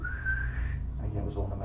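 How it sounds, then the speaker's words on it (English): A person at a Pathfinder tabletop game session whistles a single steady sustained note that then fades out, followed by faint background murmur. "Hanar's gonna whistle"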